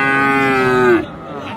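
At a livestock market in Dinajpur selling cross-bred and Friesian cattle, a cow lets out one loud, close, drawn-out moo lasting about a second, then falls silent over faint background murmur.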